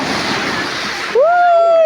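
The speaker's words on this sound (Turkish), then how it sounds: "Dalga geliyor" Sea surf washes in at a warm beach as a steady broad rush, then drops away as a voice calls out over the water.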